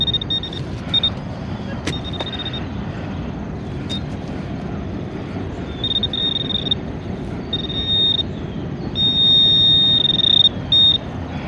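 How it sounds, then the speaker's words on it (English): A metal detector sounds a high electronic signal tone in short repeated beeps and longer held tones, some clustered together, over steady outdoor background noise while searching an old settlement site for nails and metal targets. "the metal detector showed 3 targets"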